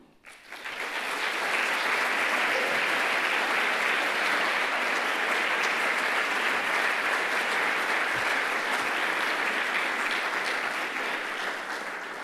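An audience at an evening event with Edmund de Waal applauds, the clapping swelling quickly and then holding dense and steady for about ten seconds before easing slightly.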